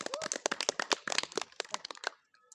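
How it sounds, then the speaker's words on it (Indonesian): Classroom applause from a group of seventh-grade students, a dense burst of many hands clapping close by for about two seconds, then fading out, with no talking. "Beri tepuk tangan yang meriah."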